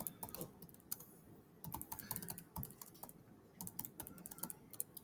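Keys clatter on a computer keyboard as search terms are typed, irregular bursts of quick clicks with short pauses between them, quiet and close.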